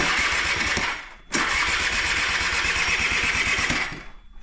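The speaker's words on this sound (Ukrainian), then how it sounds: "зараз спробуємо, як заводиться на новому бендіксі" A Honda Tact AF moped engine turns over on a new starter bendix, giving a loud, steady rapid chatter of cranking that breaks off once briefly and resumes, then fades near the end without catching.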